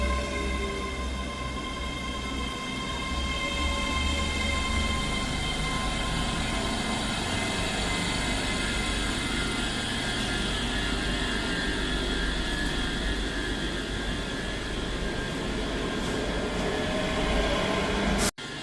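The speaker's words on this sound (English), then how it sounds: "Departing out now is a Scotrail service from Glasgow Queen Street to Edinburgh Waverley" A Scotrail train on the Glasgow Queen Street to Edinburgh Waverley service pulls out of Edinburgh Haymarket station, giving a steady, loud, continuous rumble and hum that holds evenly before cutting off abruptly at the end.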